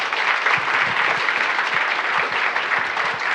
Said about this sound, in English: have another hand for those soloists up here